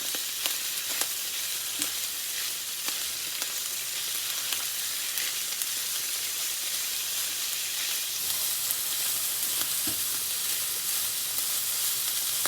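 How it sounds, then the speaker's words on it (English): Seasoning of oregano, sazón Goya, adobo and fresh garlic sautéing in a pan for pastelón de plátano maduro, a steady, even sizzle close by with a few faint stirring taps scattered through it and no voices. "So what I like to do is saute it a little bit."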